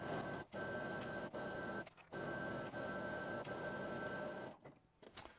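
A sewing machine stitches around the headband of a Santa hat, a fast steady mechanical whir broken by short pauses as the fabric is turned.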